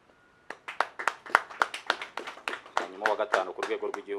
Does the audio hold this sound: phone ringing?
no